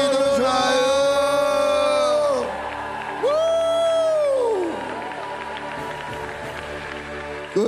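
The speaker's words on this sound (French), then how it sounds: "Poussons des cris de joie." A French-speaking church congregation at an evening revival session cheers and lets out loud sustained shouts of joy, long voiced cries rising over a roaring crowd before easing into quieter murmuring.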